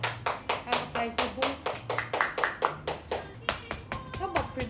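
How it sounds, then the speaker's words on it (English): Hands clap in a steady, even rhythm, about four claps a second, during a live baking stream of Chinese New Year tiger cookies. The claps are fairly close and keep the same loudness throughout, with faint voices underneath. "Give a hand of applause to our advertiser"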